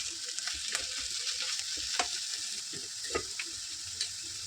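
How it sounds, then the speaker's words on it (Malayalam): Chickpea leaves sautéed and stirred in a pan, a steady close sizzle of frying broken by irregular scrapes and taps of the spoon against the metal. "ഇതുപോലെ നമുക്ക് ഇളക്കി കൊടുക്കാം."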